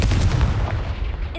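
A Confringo blast spell fired in the video game Hogwarts Legacy, a loud, punchy explosive burst with a rumbling low tail that fades across a second and a half.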